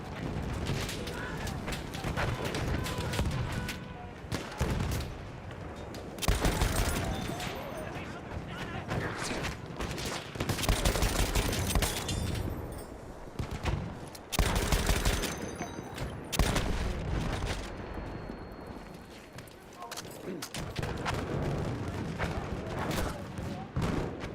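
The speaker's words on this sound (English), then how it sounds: "I think this is my favorite light machine gun from the war." Lewis light machine gun firing in a World War-era shooter match, with bursts of rattling automatic fire and heavy booms throughout, under and between stretches of talk.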